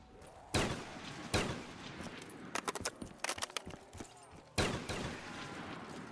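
Heavy shotgun-style sniper rifle shots from Black Ops 3 custom Zombies, the Das Lager map, with several loud, widely spaced booming blasts and a burst of quicker clattering shots between them, over game ambience.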